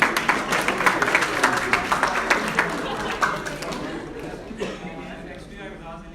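An audience at a university college talk applauds a volunteer, rhythmic rounds of clapping from a crowd that start strong and gradually fade, with murmured chatter and voices underneath.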